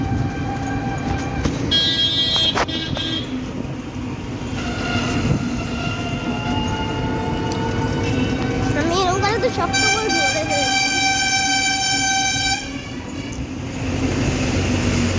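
A local train rumbles and rattles loudly at close range, wheels clattering and squealing, with a horn toot, while a person talks over the din.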